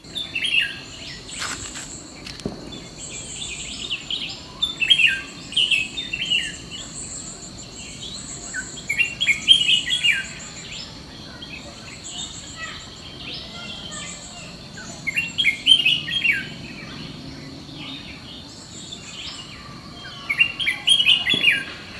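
Bulbul birds calling around a house, repeated short chirps and warbles coming in bursts over a steady hum of insects, moderately near and with no talk.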